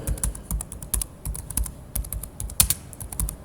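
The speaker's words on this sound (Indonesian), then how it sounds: "kita ketikkan lagi di sini" Rapid clattering keystrokes on a computer keyboard while entering Cisco router configuration commands, close and crisp with uneven bursts of taps and a few louder key hits.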